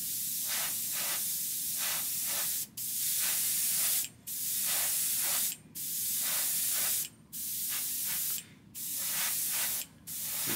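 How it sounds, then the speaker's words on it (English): Airbrush spraying lacquer paint onto unprepared photo-etched metal scale model parts, a steady close hiss in repeated bursts of about a second and a half separated by brief pauses, no talk. "Let's see what happens when you spray lacquers onto unprepared photo-etched metal."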